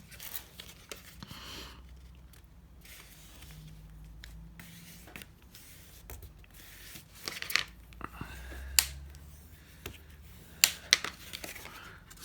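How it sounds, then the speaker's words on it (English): The last scored strip of paper or card is folded over by hand. Quiet, scattered crinkles and soft crunches sound close by, with a few sharper creases near the end. "then fold that last little bit over"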